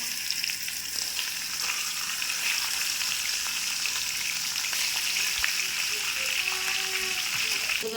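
A fish head rubbed with salt and turmeric fries in hot oil in a wok, giving a loud, continuous crackling sizzle close by, with a few faint clicks and scrapes.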